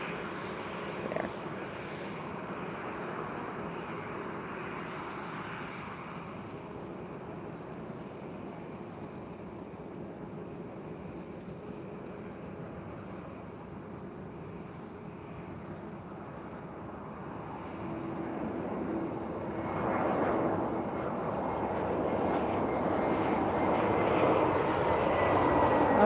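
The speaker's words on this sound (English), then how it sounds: "Another Lufthansa coming from where you are, Mahi. So all the way from Germany to Lisbon. Smooth landing" A Lufthansa airliner arrives from Germany and lands at Lisbon Airport on a sunny afternoon, its engine roar a steady distant rumble that swells louder toward the end as the jet nears.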